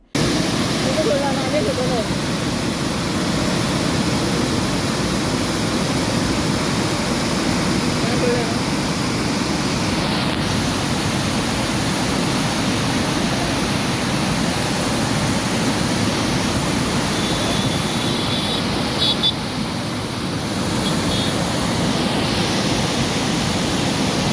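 Water thunders through four crest gates of Kadra dam at Karwar after heavy rain, a dense, unbroken roar that stays loud and even throughout, with faint voices occasionally audible beneath it.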